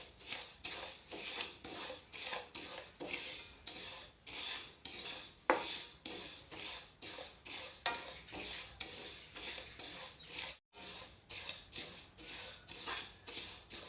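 Sesame seeds roast in a dry pan for peanut holige, with a spoon scraping and stirring in a steady rhythm over a light crackle, close and alone.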